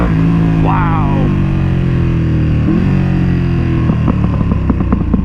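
A 2021 Ducati Panigale V2 motorcycle with a full Akrapovic exhaust, its engine droning loud and close, then letting out a rapid series of crackling pops on deceleration, with brief voice in between.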